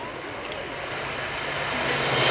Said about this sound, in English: at this Royal International Air Tattoo 2017 as the Thunderbirds F-16Cs taxi past